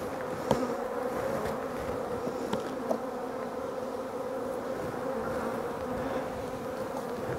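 Honeybees buzzing around an open hive with drone brood, a steady close drone of many insects with a few brief knocks and clicks, no voices.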